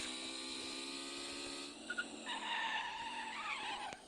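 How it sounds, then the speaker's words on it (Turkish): A motorcycle motor revs as the throttle is pressed twice, heard as a steady, bright, high-pitched engine whine that shifts pitch partway through, with no talking. "Gaz tuşuna iki kere basarsanız motor ön kaldırabiliyor."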